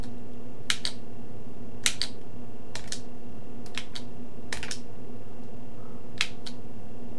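Scattered keystrokes on a Commodore 64 keyboard, sharp individual clicks and short bursts spaced irregularly over a steady low hum.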